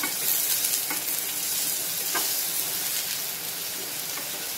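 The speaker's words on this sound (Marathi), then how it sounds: "कढीपत्त्याची पानं आणि कांदा। तर हे सर्व आपण व्यवस्थित परतवून घेऊया।" Curry leaves, onion, garlic and green chillies are sautéed in hot oil in a pan, giving a loud, continuous hissing sizzle with soft scraping stirs throughout, close and steady with no talking.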